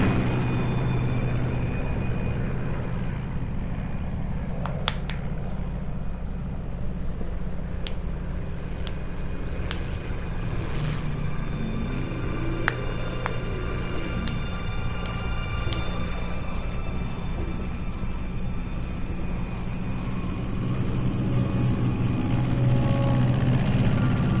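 Steady low drone of an aircraft cruising at altitude over Soviet airspace in Metal Gear Solid 3, a continuous engine rumble with faint mechanical ticks and tones layered on top.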